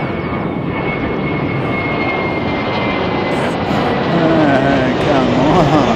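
Jetstar passenger jet taking off from Christchurch, a loud sustained engine roar close by with rising whining tones near the end, and a voice speaking over it briefly.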